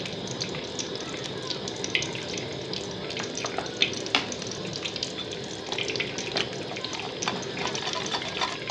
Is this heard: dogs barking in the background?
no